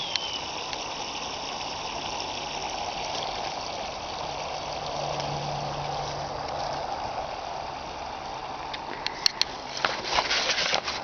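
A garden hose runs steadily in a back yard, a continuous broadband rush of water like a small waterfall that holds the whole stretch, with a few light splashes and knocks near the end.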